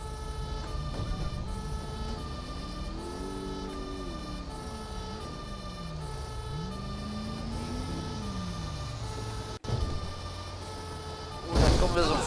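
Wailing fire truck siren in the game GTA 5, loud and close, sweeping up and down in long cycles over a droning engine, ending with a brief burst of noise.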